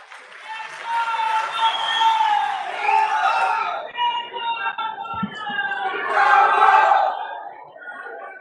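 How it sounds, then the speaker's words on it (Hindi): A large crowd at a political rally in Rajasthan cheers and shouts in loud, sustained waves, with chanting voices rising and falling and scattered clapping mixed in. "आप बहुत तालियां बजा रहे थे"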